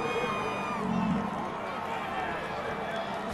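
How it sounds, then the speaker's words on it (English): Football stadium crowd at the 2020 Conference USA Championship, Marshall versus UAB, roars and cheers in a broad, distant wash beneath steady commentary voices, rising briefly before settling. "This crowd's coming alive a little bit"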